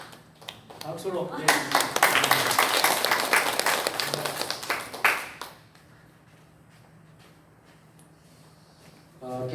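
A church congregation claps together in a burst of applause lasting several seconds, then it stops and a voice speaks faintly in the quieter room.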